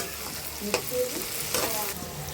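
Four chopped onions fry in oil for a Kakinada-style gasagasala curry, a close, steady sizzle broken by a few sharp stirring scrapes.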